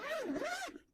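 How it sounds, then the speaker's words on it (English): A zipper is pulled open around a compact carrying case for a car camping setup, giving one close, quick rasping zip that rises and falls in pitch, heard alone. "I'm going to zip it open."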